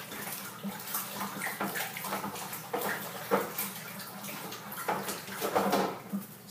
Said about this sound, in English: So, I'm going to pour this little kettle in here.